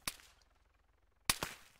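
Two sharp gunshots ring out in a video game, about a second apart, each a crisp loud crack with a short tail, separated by near silence.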